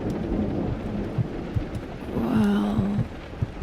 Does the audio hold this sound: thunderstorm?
yes